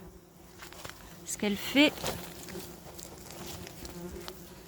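German wasps buzz faintly around an underground nest being dug out of the soil, a thin insect drone running beneath a French-speaking voice.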